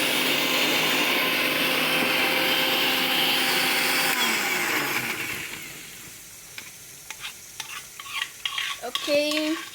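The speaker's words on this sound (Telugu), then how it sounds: "మిక్సీ పట్టేసుకున్నాం" A mixer grinder blends ivy gourd masala with a little water, a loud steady whirring drone for about five seconds that winds down and stops, followed by scattered clinks and handling noises.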